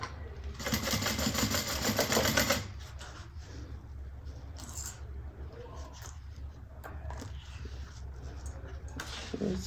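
A sewing machine stitches a bag seam in a fast, close, buzzing burst lasting about two seconds, followed by quieter handling and rustling of fabric.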